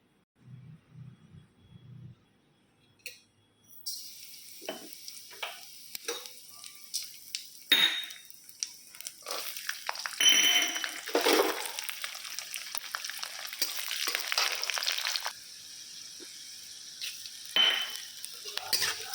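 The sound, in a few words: spices, green chillies and ginger frying in hot oil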